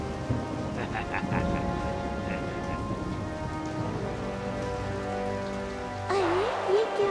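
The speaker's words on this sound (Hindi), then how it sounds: "अरे बारिश!" Cartoon rain pours steadily in a dense, even hiss with a low rumble beneath it, and a voice chimes in briefly near the end.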